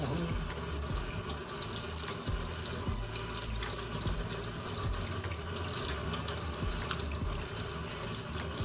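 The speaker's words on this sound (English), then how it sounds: "got my hands washed" Steady running water from a kitchen sink tap as hands are washed under it, a continuous close splashing wash with no talk.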